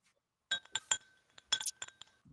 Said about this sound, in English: I'm just gonna stick with the glass again. Listen to it, Bacon. You hear it?